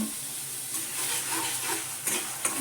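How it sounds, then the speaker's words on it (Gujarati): Onions and green chillies sizzle steadily in hot oil for a village-style whole green garlic curry, with a few sharper crackles and scrapes of stirring near the end; no talking. "પહેલાં ડુંગળી અને મરચાં નાખી દઈએ"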